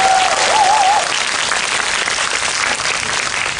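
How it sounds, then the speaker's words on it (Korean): Applause from an audience at a movie talk event in a cinema, a full, dense burst of many people clapping together, close and sustained through the clip with a faint whistle at the start. "박수 한번 쳐주세요"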